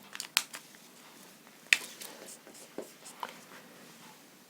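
Scratchy strokes of writing on a board during a Class 9 maths lesson on the number system, several short bursts separated by pauses, fairly faint and close with no talking.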